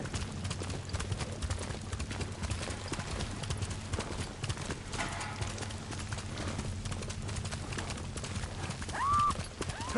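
Hooves gallop at a steady rapid rhythm throughout as a horse runs in the video game Ghost of Tsushima, with a low rumble beneath, and a short whinny rises near the end.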